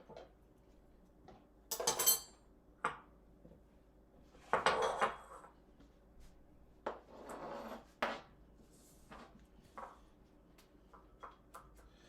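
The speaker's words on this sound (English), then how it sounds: "now that we have grated, chopped all of our ingredients, we're going to transfer them over onto our bowl" Grated and chopped ingredients tipped into a bowl, heard as scattered clinks, scrapes and knocks of utensils against dishes at close range, spaced out with quiet gaps and no talking.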